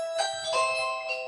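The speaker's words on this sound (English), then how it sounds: "That's another doorbell." Doorbell chimes ring out in a quick sequence of three clear, bell-like tones, moderately loud and alone with no talking.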